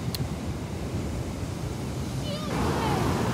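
Ocean waves wash steadily onto the shore at Natural Bridge State Beach in Santa Cruz, a continuous broad surf roar with wind buffeting the microphone throughout.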